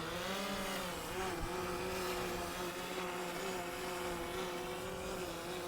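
A DJI Mavic 3 drone flies in strong wind over Bogus Basin Road in the Boise Foothills, its motors giving a steady, droning buzz that holds for several seconds without a break.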